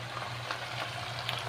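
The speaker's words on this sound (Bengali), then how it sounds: "এইদিকে দেখো একদম ছোট্ট হাঁড়িতে ভাত বসিয়েছি" Rice cooking in a small pot makes a steady, close bubbling sizzle that runs continuously at an even level, with no one talking.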